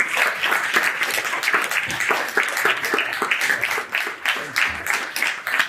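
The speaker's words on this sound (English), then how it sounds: "So turn around and give mum a big round of applause." An audience at a manhood academy graduation ceremony claps in loud, dense applause that continues steadily throughout with slight swells and dips.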